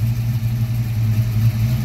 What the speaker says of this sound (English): it's sitting here idling perfectly